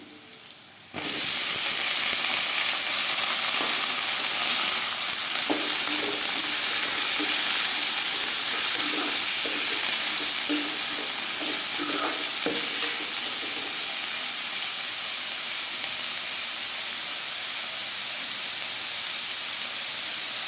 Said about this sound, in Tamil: வெங்காயம் நல்லா வதங்கிடுச்சுங்க. இப்போ முட்டைக்கோஸ் சேர்த்துக்கலாம்.